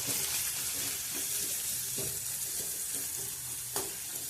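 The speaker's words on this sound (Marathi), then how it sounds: "कांदा ना अर्धा कच्चाच असा भाजायचा असा गोल्डन होई पण भाजायचा नाही" Chopped onion sizzles steadily in a pan for Maharashtrian baingan bharta, with a continuous bright frying hiss and a few soft scraping stirs cutting through.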